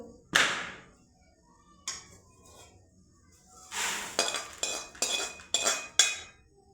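Crisp roasted puffed rice (murmure) for Diwali chivda handled and tossed in a pan, making sharp dry rustling crunches in short bursts, with a cluster of rapid crackly rattles near the end.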